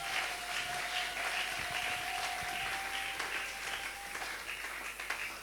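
A congregation applauding for the glory of God at a church service in Kinshasa, a steady wash of many hands clapping together, fairly distant and soft, with no break in the crowd noise.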